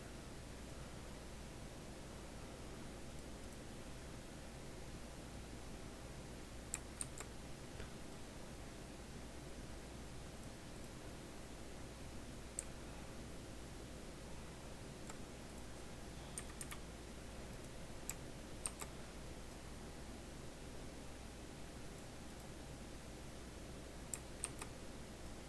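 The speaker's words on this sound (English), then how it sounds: "To move it over a little bit, I'm just clicking the directional arrows on my keyboard." Directional arrow keys on a computer keyboard click faintly and sparsely, a few isolated taps and short double taps scattered over a steady hiss of room noise, with no voices.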